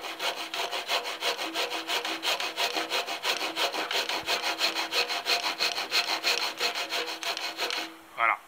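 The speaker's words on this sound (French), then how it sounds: "je descends mon trait de scie de manière à faire toute la largeur" Hand saw cutting through wood with a steady, rapid back-and-forth rasping rhythm of close strokes, stopping near the end with a short scrape.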